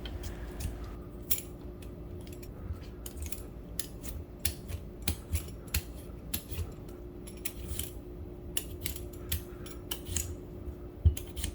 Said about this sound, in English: Once that is done, peel your radish.